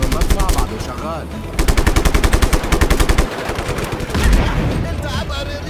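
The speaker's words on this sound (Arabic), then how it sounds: "شرطك انه المدفع بعده شغال." Rapid automatic gunfire rattles almost nonstop through a Just Cause 3 battle on PC, loud and close, with dense bursts and a few heavier booms mixed into the chaotic game sound.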